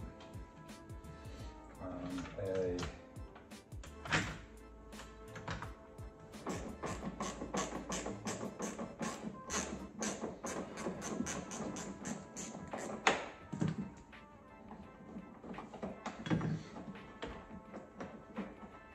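A 13 mm bolt on a Land Rover Defender's rear gas strut mount is worked loose with bursts of quick metallic clicking and tapping, close by, with a short stretch of talk early on.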